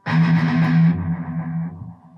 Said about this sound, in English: You want that really low end chugging type of sound.